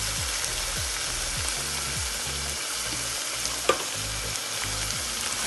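Tomato frying in a hot pan with a steady, loud sizzle and some stirring scrapes, plus one sharp clink partway through.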